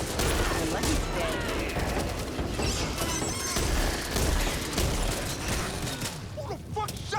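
Rapid bursts of gunfire crackle almost continuously in the zombie shooter Back 4 Blood, dense and loud with scattered impacts, while voices talk faintly underneath.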